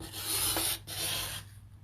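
A paper trimmer slices through card for a Dutch gate fold card, a close, loud scraping swish in two quick strokes that trail off into quiet.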